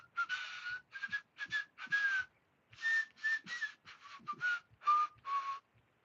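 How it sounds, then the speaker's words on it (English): Breathy whistles come from air blown through holes in a piece of cardboard, in short, airy, pitched bursts of irregular rhythm, with the pitch wavering and stepping lower toward the end. They are close and moderately quiet. "I'm just blowing up through the cardboard holes like this."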